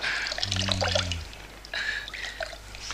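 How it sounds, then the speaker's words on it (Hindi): Water poured over a feverish person's head in a Hindi radio drama, a close, steady splashing trickle for about a second, then softer dribbling and drips, with no talk over it. "लो मैं पानी डाल रहा हूं।"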